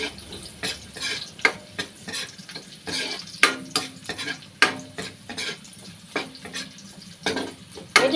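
Garlic and onion sautéing in a pan for squid adobo: a low sizzle under repeated sharp scrapes and clanks of a utensil stirring against the metal, irregular and close, without voices.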